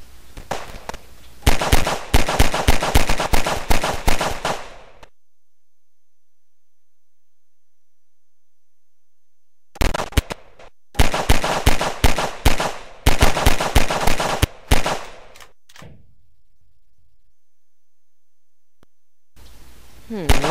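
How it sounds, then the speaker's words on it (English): Rapid bursts of gunfire fired into the sky in Garry's Mod, loud and close, coming in two long volleys of quick cracking shots separated by silence, with a third burst starting at the end. "Time to celebrate by firing bullets off into the sky."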